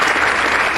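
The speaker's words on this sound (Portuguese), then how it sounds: "Aplauda mais forte ainda." A church congregation claps loudly and steadily, a dense, unbroken wall of applause filling the whole moment.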